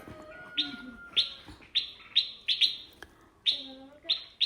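Repeated sharp, high chirps from a frightened bird near its nest with two chicks, in quick bursts, some doubled, fairly close and loud against a quiet background, sounding agitated.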